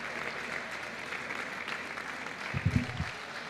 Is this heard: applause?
yes